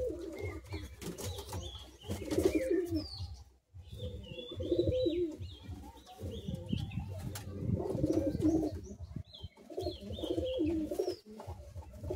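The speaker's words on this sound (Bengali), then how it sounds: "রামধরা পায়রা আছে।" Domestic pigeons of the Madrasi breed coo repeatedly at close range, soft throaty calls recurring throughout with occasional chirps and wing flutters, while someone talks over the birds.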